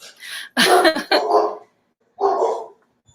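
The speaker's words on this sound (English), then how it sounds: "And my dogs are barking." A few dogs bark in short, loud bursts nearby, two clusters of barks separated by a brief pause.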